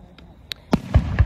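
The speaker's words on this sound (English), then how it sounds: "They just started the fireworks," Fireworks at a carnival night go off as a few sharp distant pops and thuds in quick succession, short and punchy against a quiet background.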